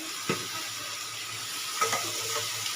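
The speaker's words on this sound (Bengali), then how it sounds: "এবারে আমি এর মধ্যে মোচাগুলো দিয়ে দিচ্ছি" Boiled banana flower tipped into a hot pan and stirred, giving a steady soft sizzle with two brief scraping thumps of the spatula, close and moderately loud.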